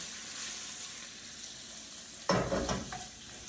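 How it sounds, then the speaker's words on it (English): Kielbasa sausage frying in a pan, a steady close sizzle throughout that grows louder with a burst of crackling and stirring near the end. "Our kielbasa is cooking up nicely, just letting, like I said, I'm just going to get a little caramelization"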